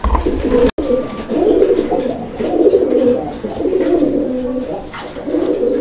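A male pigeon coos close by in repeated throaty, rolling phrases, loud and continuous across the stretch, after a sharp brief dropout near the start.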